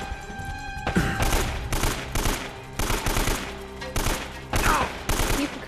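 Bursts of AK rifle fire in the video game Uncharted: Drake's Fortune, several loud automatic volleys broken by short pauses, with no talking.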